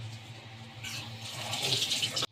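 Water being poured into a jar packed with salted lemons, a steady splashing pour that builds brighter and fuller before cutting off abruptly near the end, close and alone.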